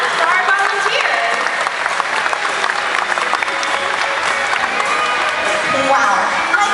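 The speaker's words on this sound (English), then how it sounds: "Let's have one more round of applause for our volunteers" Audience applause for volunteers at a SeaWorld whale show, a dense sustained wash of clapping from a large crowd with scattered cheers and children's shouts, loud and steady throughout.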